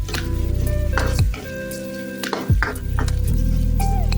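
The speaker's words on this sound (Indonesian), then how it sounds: "Kemudian kita tumis semuanya ya sampai berbau harum dan wangi ya masakan ini" Spices and seasoning paste sautéing in a hot pan for stir-fried green beans with chicken gizzards and livers, a steady close sizzle with occasional scraping stirs of a utensil against the pan.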